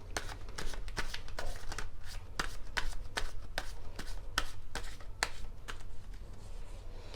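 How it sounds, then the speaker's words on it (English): Tarot cards shuffled by hand in a quick, regular series of crisp riffling snaps, close and fairly quiet, with no talking over them. "So I am again shuffling your card."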